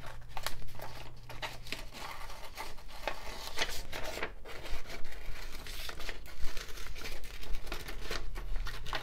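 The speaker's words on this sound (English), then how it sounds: "take my scissors, cut along that bubble, cut out my word" Close crinkling and snipping of paper being cut, a continuous rustle of small cuts and crackles with no talking.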